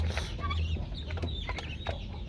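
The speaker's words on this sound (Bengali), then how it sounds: "খুব মজা করে খাইতেছি দেখুন।" Grey francolins eating feed moistened with a little water, with soft clucks and pecking noises close by under a steady low hum and faint background voices.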